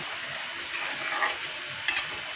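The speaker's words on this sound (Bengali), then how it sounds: "এই ঝোলটা কিন্তু ফুটে গেছে।" Mustard fish curry gravy simmering in a pan, with a soft, steady bubbling and faint sizzle close by, and a few brief stirring clinks.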